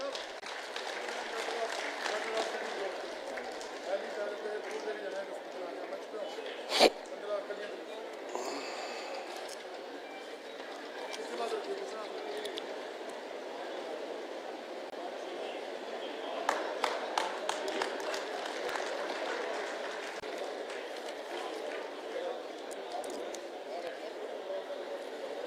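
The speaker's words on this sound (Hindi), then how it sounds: "मैं आपसे निवेदन करूंगा एक बार जोरदार तालियों से उनका हार्दिक" An audience claps long and steadily to welcome MP Subhash Barala at a Sant Shiromani Dhanna Bhagat Jayanti celebration in Pillukheda Mandi, a dense wash of applause with a few sharp louder slaps and some crowd noise beneath.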